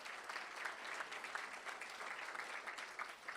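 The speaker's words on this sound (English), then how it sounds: "Now let's give Nurse Kelly a big round of applause." Steady applause from a board-meeting audience honoring Nurse Kelly, a dense even wash of many hands clapping at moderate distance throughout, with no voices standing out.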